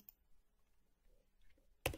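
A single sharp Enter-key press on a computer keyboard, struck near the end after a quiet stretch with faint background clicks, launching a point-cloud transformation in CAD software.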